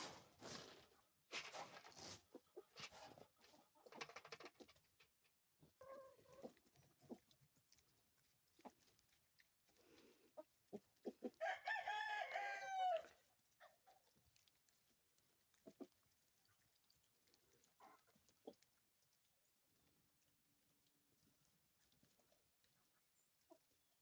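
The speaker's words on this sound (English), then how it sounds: "How about that chicken ASMR, folks?" Chickens clucking and a rooster crowing on a snowy farm, with scattered close clucks and a louder crowing burst partway through, mostly alone with only faint background noise.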